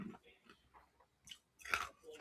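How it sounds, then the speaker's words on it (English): Quiet, close crunching of ice being chewed, with several short brittle bursts separated by brief pauses. "Sorry, I'm crunching ice."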